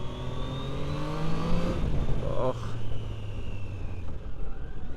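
A Triumph Daytona motorcycle accelerates, its engine pitch climbing steadily then shifting and continuing to rise, fairly faint and under some background noise.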